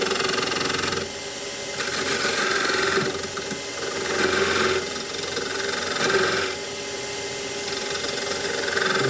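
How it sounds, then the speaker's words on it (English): A wood lathe spins a multi-axis candlestick holder while a skew chisel cuts a point, a steady motor hum with rhythmic rising and falling cutting passes throughout, fairly close and without speech. "So what I'm going to do actually here is use my skew to get a point here."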